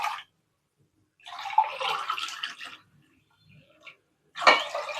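Water is poured from a cup into a pressure cooker for sweet pongal in a few separate splashing bursts, with short quiet gaps between the pours, close by and fairly soft.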